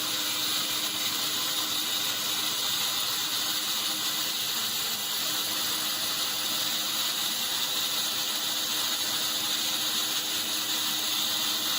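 A sawmill blade cuts wood, humming and whining continuously at full speed, a smooth mechanical drone with faint rattling and no voices.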